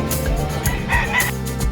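A rooster crows at the Malasiqui livestock market, a short harmonic call rising over steady market din, close and fairly loud.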